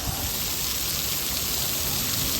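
Summer drizzle falls in Morbi as a steady, even hiss of rain with no break or voices.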